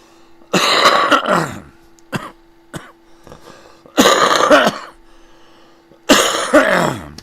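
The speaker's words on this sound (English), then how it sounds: "Pardon my cough." Three loud, harsh coughing bursts, each a short cluster of hacks, separated by quiet pauses with a few faint clicks between them.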